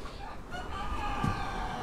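A rooster crows among bantam chickens, such as Struma Bantam, miniature Brahma and Paduan hens, its drawn-out call rising over steady clucking and coop noise close by.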